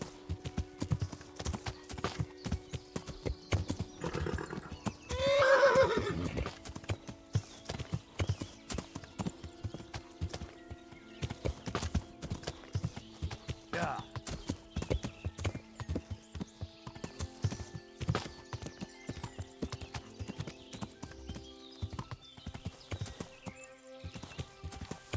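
Horse in the medieval video game Kingdom Come: Deliverance, steady clip-clop of hooves throughout with a brief whinny early on, moderately quiet against faint game ambience.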